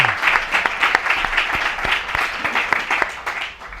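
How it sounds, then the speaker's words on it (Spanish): Audience applause at a youth science communicators awards event, brisk, steady clapping from a sizable crowd, fairly close and continuous, easing slightly at the end. "Yo voy a pedir un aplauso de nuevo para ellos"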